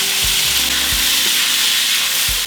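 Vegetables and garlic sweat in a frying pan with a steady, close sizzle, broken by a few dull knocks and scrapes of a utensil stirring them.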